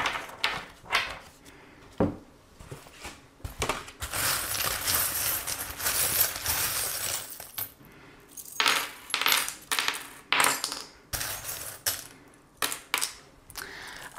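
Small metal charms cast for a tarot reading, a series of close, bright clinks and rattles as they tumble and settle, in scattered bursts with a denser shuffling stretch in the middle, no voices.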